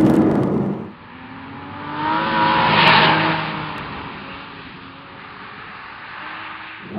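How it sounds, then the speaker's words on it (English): Flat-six engine of a 2012 Porsche Boxster S sports car, a raw mechanical rev that swells and then fades away, loud and close with no talking. "Flat 6 just sounds so good."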